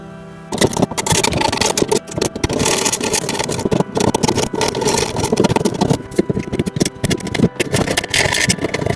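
A gas torch roars steadily and loudly at close range while soldering a damaged aluminium evaporator on a Nikai mini fridge, a dense continuous hiss-and-rumble after a quiet start.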